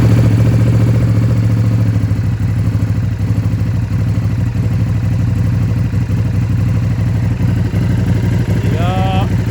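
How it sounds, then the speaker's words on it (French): A KTM RC8R sport motorcycle engine idles steadily at about 1500 rpm, a loud, close, continuous low throb with faint clatter, and brief rising whines near the end. "maintenant ça démarre et ça tient le ralenti"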